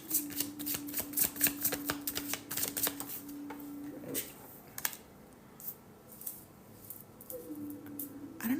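Tarot cards being shuffled by hand, a run of quick crisp riffling snaps and soft flicks in bursts, close and fairly quiet, with a faint steady hum underneath.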